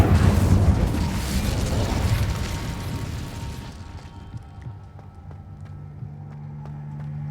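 A loud, roaring whoosh of fire from an Incendio spell cast in Hogwarts Legacy, surging up and then fading into a quieter ambient hum with a few faint ticks.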